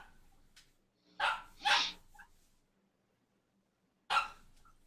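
A puppy gives a few quick yips and barks, two close together and then one more after a pause, faint and a little distant, with no voices around them.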